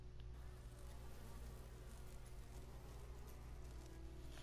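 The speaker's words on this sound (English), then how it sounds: "Look at the size of those bees." A dense swarm of large bees buzzes in the Resident Evil HD remake, a steady, loud drone that fills the whole stretch with no break and no talk over it.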